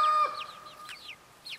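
Chickens in a backyard chicken tractor give a few short clucks and chirpy calls close by, loudest at the start and tapering off, with a quiet pause before one last call.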